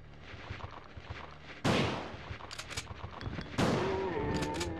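Gunfire in the video game Resident Evil 2: two loud, sharp blasts about two seconds apart, each with a decaying tail, over a steady bed of game ambience and soft shuffling.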